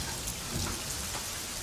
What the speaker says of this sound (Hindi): थोड़ा अंदर होकर बैठो, बारिश हो रही है ना